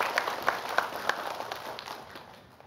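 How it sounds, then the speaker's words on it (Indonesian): Audience clapping on a televised religious talk show, a few sharp in-unison claps at first, then a softer patter that fades away over a couple of seconds. "Tepuk tangan lagi."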